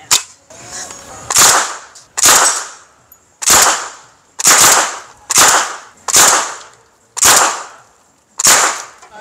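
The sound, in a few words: grease gun firing .45 ACP rounds at armored SUV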